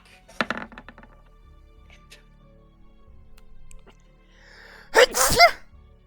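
A loud, sharp sneeze bursts out near the end, standing alone after a quiet stretch broken by a few faint clicks and taps early on.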